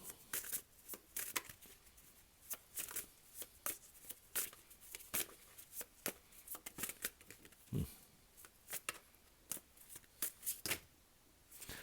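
Tarot cards shuffled by hand at close range, a continuous run of quick papery riffles and slaps in uneven bursts, with a soft thump partway through.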